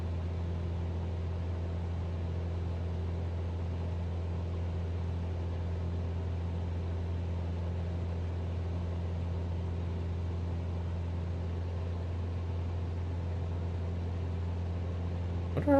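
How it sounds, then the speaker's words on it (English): Simulated aircraft engine held at redline in Microsoft Flight Simulator, a steady droning hum with a strong low tone and faint harmonics, constant and unchanging throughout, with a brief click at the very end. "Well, now I'm gonna redline the engine."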